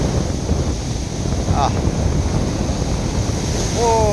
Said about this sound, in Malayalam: വളരെ മനോഹരമായിട്ട് കാറ്റ് ഉണ്ട്